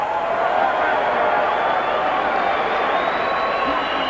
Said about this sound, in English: Crowd cheers for both fighters as the action heats up.